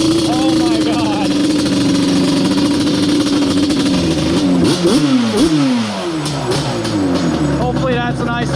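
A Yamaha Banshee drag ATV engine drones loud and near, then revs hard in several rising and falling sweeps before settling to a lower idle, with excited voices talking over it.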